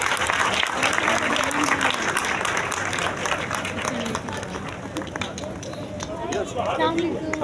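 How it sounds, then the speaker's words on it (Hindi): Loud crowd applause greets guests at a classroom gathering, energetic clapping mixed with voices and excited chatter that dips slightly midway, then swells again. "ज़ोरदार तालियों के साथ उनका इस्तकबाल"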